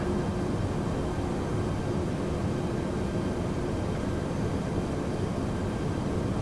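Steady, loud airliner engine roar from an American Airlines jet in the FSX flight simulator game, a continuous broadband drone with no breaks or talk.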